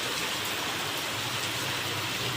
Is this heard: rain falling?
yes